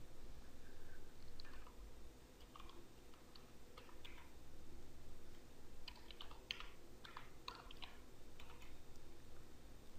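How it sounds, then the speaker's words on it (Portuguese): Computer keyboard keys tapped in short irregular clusters while a username and password are entered, fairly faint over a constant background hiss. "aqui eu vou digitar meu user e minha senha."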